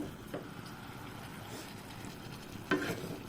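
Beef rezala being stirred in a cooking pot, heard as a faint, low simmering sizzle with a few soft scrapes of a spoon against the pot and one louder knock near the end.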